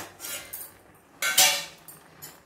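A metal plate used as a lid being lifted off a cooking pot, with a few light metallic clinks and scrapes, the loudest sharp rattle in the middle, then a fainter clink near the end, and no talking.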